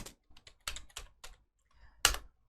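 Code being typed on a computer keyboard: a handful of close, crisp key clicks in short uneven bursts, with one louder final keystroke and no talking.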